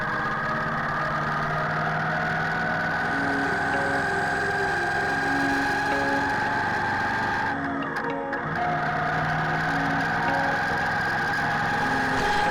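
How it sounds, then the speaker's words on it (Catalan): A Moto Guzzi V85 Travel motorcycle engine runs steadily on a mountain road ride, a continuous mid-pitched drone with low throb and wind rush, briefly disturbed midway. "a la moto, com sempre, una Moto Guzzi V85 Travel"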